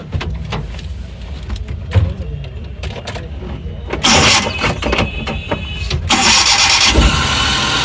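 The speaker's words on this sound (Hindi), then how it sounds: "अब इंजन का हम आपको साउंड सुनवाते हैं ताकि आपको अंदाजा हो सके इंजन किस" A Suzuki pickup's engine, offered for sale at a Sunday car bazaar in Pakistan, cranks with a few clicks and sputters, then catches and settles into a steady, close-up running idle.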